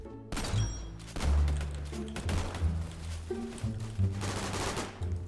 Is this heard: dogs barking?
no